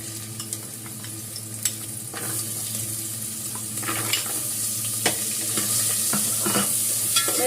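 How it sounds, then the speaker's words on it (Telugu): Carrots frying lightly in ghee in a pan while being stirred: a continuous close sizzle with repeated spatula scrapes and soft clicks that grow slightly busier toward the end. "ఇప్పుడు ఇదే నేతిలో మనం ఈ క్యారెట్ కూడా లైట్గా ఫ్రై చేసుకుందాం."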